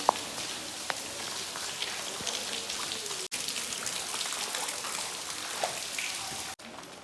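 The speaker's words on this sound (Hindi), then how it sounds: "बहुत ज़ोर की बारिश प्रारंभ हो चुकी है" Steady, dense rainfall pours down without pause, a constant hiss with scattered drops striking nearby surfaces.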